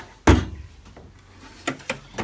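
A toolbox drawer is pulled open with a sharp thud, followed a moment later by a few lighter metallic clunks and knocks, close and alone without talk.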